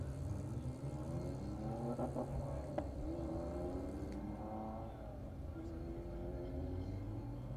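Race cars leaving the pits onto the Buttonwillow circuit during a time-attack event, a steady distant engine drone and whir with some rising revs, heard continuously under a commentator's voice.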